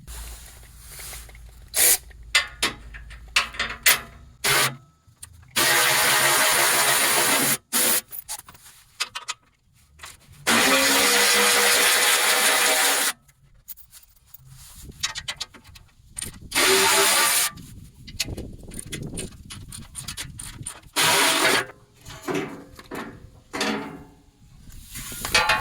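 Ratchet clicking in bursts under a 2021-2025 Ford Bronco with the 2.3L engine as bolts are loosened, sharp close ratcheting runs alternating with quiet gaps and rubbing handling noises.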